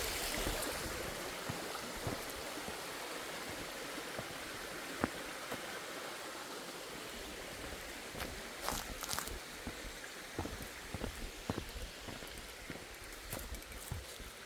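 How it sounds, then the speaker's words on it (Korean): A clear mountain stream in Yongchu Valley on Daeyasan, Mungyeong, runs between broad flat rocks with a constant rushing wash. Scattered splashes and taps rise above it in the later half. "성인 수십 명은 앉아서 쉴 수 있는 평평한 넓적 바위 사이로 흐르는 깨끗한 계곡입니다"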